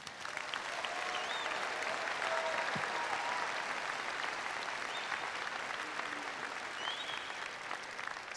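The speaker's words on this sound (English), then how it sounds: "Let's give them a round of applause" Sustained, dense applause from a large crowd at a high school graduation honoring graduating students, a steady wash of clapping that holds at even loudness throughout, heard from a distance with faint cheers and voices mixed in.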